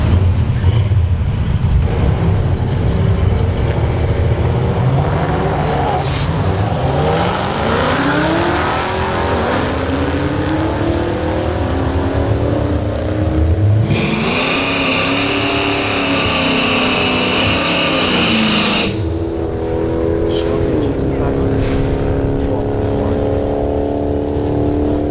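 A Dodge Charger SRT's engine roars at a drag strip, revving up through several rising gear pulls, then holding a loud, steady drone with a sharp high-pitched whine, close and powerful throughout.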